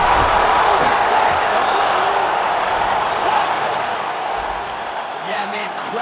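A dense arena crowd roars and cheers after a knockout in the UFC 5 video game, a loud continuous wash of voices that holds steady and eases slightly, with a commentator talking over it.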